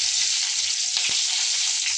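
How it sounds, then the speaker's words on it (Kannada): Garlic sizzling in hot oil in a tempering of mustard seeds and cumin for a lentil and tomato curry, a steady close-up frying hiss that runs throughout with a brief stir. "ಈಗ ಸಾರು ಒಗ್ಗರಣೆ ಕೊಡತ್ತೆ ಅಂತ ಸಾಸಿವೆ ಜೀರಿಗೆ ಹಾಕ್ತೀವಿ"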